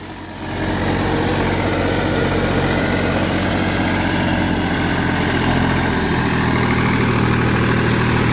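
A tractor drawing a rotavator through dry sugarcane leaves in a field, its engine a loud, steady low drone that holds unbroken throughout without talk.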